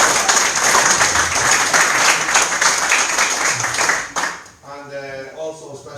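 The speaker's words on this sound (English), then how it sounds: "a special round of applause for James Murphy" Audience applause at an evening talk on the War of Independence in County Kildare, a dense sustained clapping that fills the room for about four seconds, then cuts off abruptly as a voice begins speaking.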